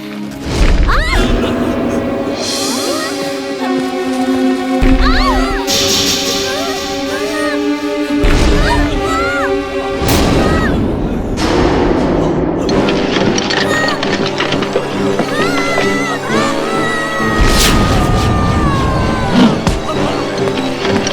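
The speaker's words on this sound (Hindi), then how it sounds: "लगता है कोई मीटियोर टूट के गिर रहे हैं।" Cartoon meteors crash down in a dense run of booms, smashes and thudding impacts that come in bursts throughout. Music and sound effects stay busy and loud the whole time.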